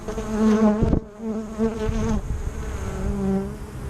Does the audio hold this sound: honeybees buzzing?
yes